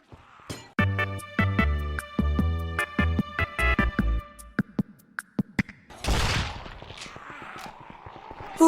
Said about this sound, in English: shooting your gun in front of strangers would get a shotgun blasted into your face